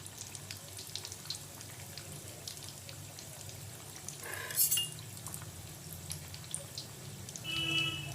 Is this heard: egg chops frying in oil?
yes